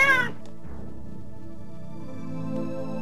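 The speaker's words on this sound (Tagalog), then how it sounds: "pusa lang pala eh, nakahuli ng daga." A cat gives one short, sharp meow at the start, close and loud, after catching a mouse, followed by a quiet low hum.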